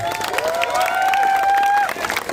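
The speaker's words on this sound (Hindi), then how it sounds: "मैं एक बार चाहूंगा कि भैया की जोरदार ताली हो जाए।" A college festival crowd at MBM college roars and applauds for Ravindra Singh Bhati, with a long piercing whistle riding over the loud, continuous cheering and clapping.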